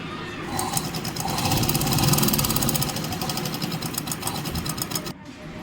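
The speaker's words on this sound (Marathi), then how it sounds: "आता मी शिलाई मारून घेणार आहे गळ्याचा आकार पूर्ण देऊन झालेला आहे आता पूर्ण शिलाई मारून घेते" A sewing machine stitches around the neckline of a katori blouse. Its rapid mechanical chatter runs steady and close for about five seconds, then cuts off abruptly.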